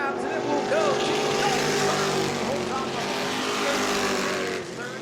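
Stock cars racing to the checkered flag at the New Smyrna World Series, engines roaring together in a dense, loud, continuous drone with rising pitch sweeps, while a commentator talks over the noise.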